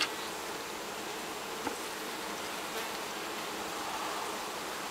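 Honeybees hum in a steady, dense buzz around a hive on a hot day, a continuous drone close by with no voices.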